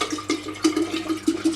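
Purified drinking water pours into a stock pot with a splashing, gurgling burble, pulsing in quick uneven glugs that sound close and fairly loud, with no talking.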